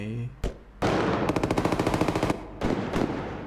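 Rapid automatic gunfire from guns being test-fired in a Roblox shooter game, with a sustained machine-gun burst in the middle framed by shorter volleys, loud and close.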